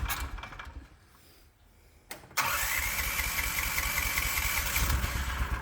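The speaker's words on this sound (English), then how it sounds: "Yep, she starts right up, and we no longer have issues with the high compression on startup." A Predator 420 engine swapped into a Hisun Strike 4x4 side-by-side is hot-started: a brief cranking whir, then it catches and settles into a loud, steady, close idle.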